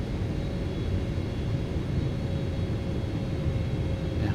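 Airplane engine in Microsoft Flight Simulator 2024 during an RNAV approach to San Diego runway 27: a continuous, even, low rumbling drone with a faint steady whine, no speech.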